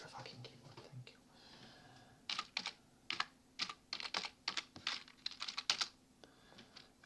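Computer keyboard keys are pressed in quick irregular bursts of clicking, close and fairly quiet, with pauses between runs of typing.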